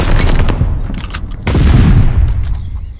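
Rapid gunfire and booming shots in Call of Duty Vanguard during a Hardpoint multiplayer match, dense loud bursts that pause briefly and then resume heavily.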